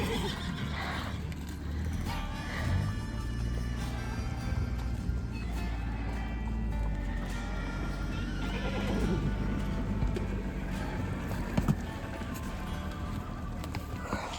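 Horses neighing and whinnying loudly and repeatedly at a western hobby riding competition arena, with hoof clip-clop and a constant busy background of activity.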